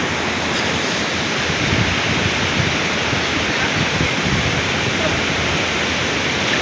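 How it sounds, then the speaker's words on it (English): Steady broadband roar of a hidden waterfall at Koromosho, loud and unbroken from start to finish with no pauses. "This waterfall"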